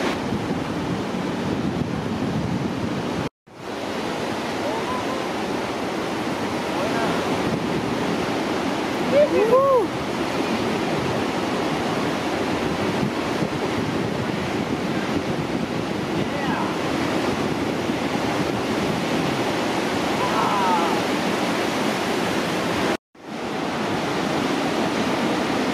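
Ocean surf rolls in at a surf championship on the beach in Cádiz, a continuous broad roar of breaking waves buffeted by wind noise. The sound drops out twice, and a faint voice or call is heard in the distance.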